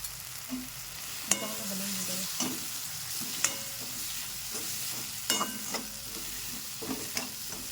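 Tomato masala sizzles in hot oil in a pan with green chillies and turmeric for egg bhurji. The frying crackles steadily while a spoon scrapes and clinks at irregular intervals, close and alone without talk.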